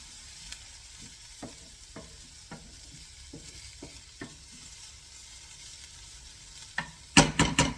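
Food frying in a pan for beef meatballs with orecchiette, kale and pine nuts, a quiet sizzle punctuated by a series of spaced utensil knocks and scrapes while stirring, ending in a burst of louder clattering near the end.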